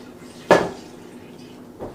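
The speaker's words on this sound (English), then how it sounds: "So I'm going to pull my pan out the oven because I already have a pan in the oven" A metal pan pulled out of an oven while cooking southern-style macaroni and cheese, a single close clank followed by a softer knock, no talk.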